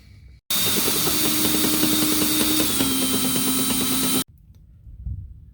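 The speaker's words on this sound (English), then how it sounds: "I drilled a small pilot hole through the tank." A power drill whines loudly and steadily for about four seconds while boring a small pilot hole through a diesel fuel tank, then stops abruptly, leaving quiet handling noise.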